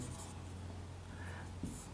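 Chalk or marker scratching across a board during a lecture, a short soft stroke heard close over a low steady hum, with no talking.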